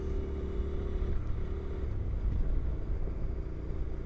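A Honda NC700X motorcycle engine hums steadily under load in first gear, a low continuous drone heard from the rider's position, moderately loud, with no talking.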